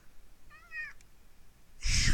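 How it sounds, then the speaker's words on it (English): A male house cat gives a single short, clear meow, fairly close but soft, followed by a louder rustle or handling noise at the end. "Yeah, I know he's a male cat and all, but I named him after the owl from the Harr"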